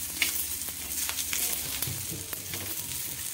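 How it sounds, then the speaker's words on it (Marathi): Spice masala roasting and being stirred in a pan for a Marathwada-style vegetable dish, a steady close sizzle with soft scraping strokes throughout, no voices. "एकदाच म्हणजे सोबतच हा मसाला भाजून घ्यायचा आहे वन बाय वन।"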